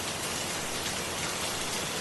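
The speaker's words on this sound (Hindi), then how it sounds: "अरे साहब, इतनी बारिश में कहां जाएंगे?" Heavy rain pours down at night as a dense, loud, unbroken hiss that stays constant throughout with no other sounds.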